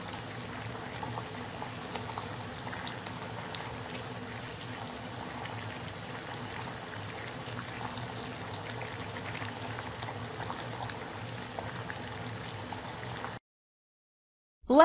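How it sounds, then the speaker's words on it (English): Water boils at a steady rolling bubble, a dense continuous fizz and pop held at an even level for most of the span before cutting abruptly to silence. "If you boil it, it becomes water vapor"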